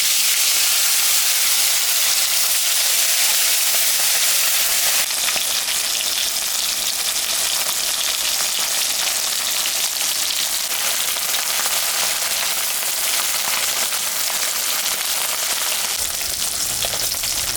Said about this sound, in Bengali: মাছটা এখন আমি ভাজবো। তেল গরম।